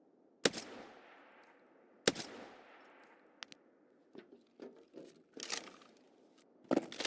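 Rifle shots in Escape from Tarkov aimed at smokestacks: two loud, sharp cracks with long echoing tails a couple of seconds apart, then a string of quieter, shorter pops and rustles in an otherwise quiet outdoor map.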